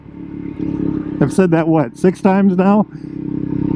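A Husqvarna 401 Svartpilen motorcycle engine hums steadily underneath as a rider talks loudly over it, the engine note staying low and constant behind the voice.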